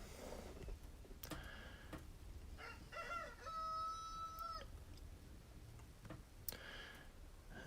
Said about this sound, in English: That's one of our roosters in the background.